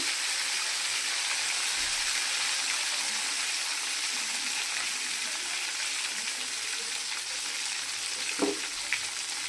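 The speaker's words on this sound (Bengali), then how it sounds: "তেলটা গরম হয়ে গেছে। এবার আমি দিয়ে দিচ্ছি একটা তেজপাতা, গোটা জিরে," Bay leaf and whole cumin seeds sizzle steadily in hot oil in a home kitchen pan, a continuous close crackling hiss with a brief stir or clink near the end.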